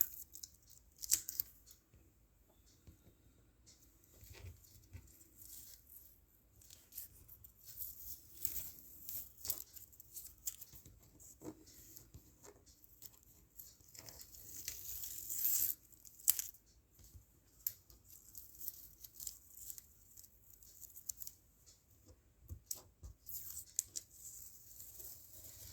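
Tape is peeled off the edges of an oil pastel drawing, making faint, irregular tearing and ripping sounds at close range in short bursts with small pauses.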